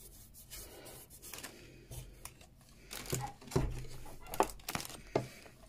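A paintbrush rubbed over the edges of paper flowers on wall decor gives soft, close scratchy brushing strokes in a few short bursts, quiet and dry with no talk.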